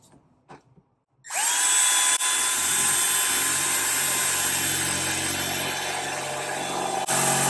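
A step drill bit bores through thin sheet metal with a loud, steady high-pitched whine and grinding screech. It starts abruptly after a brief quiet moment and runs continuously, with one short dip partway through.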